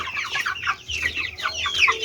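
Month-old broiler chickens of a 45-day breed cluck steadily and close by, a dense flock chattering in overlapping calls with no talk.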